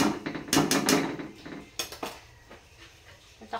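Homemade tomato sauce stirred in a pot with a utensil, giving a few close clinks and scrapes against the metal, sharpest near the start and then sparser and quieter.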